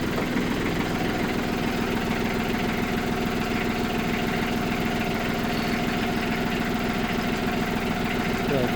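A tractor's engine idles steadily after a month and a half standing unused, a loud, close, continuous low throbbing rumble with a constant mechanical vibration, no talking over it.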